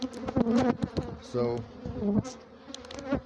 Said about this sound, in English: Feral bees. Bees are just all over me.